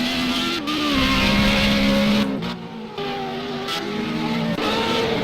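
A Formula Renault 3.5 race car pulls out of the pits during a feature race at Road America, its engine loud and close, revving hard with pitch rising through gears and a brief dip between shifts.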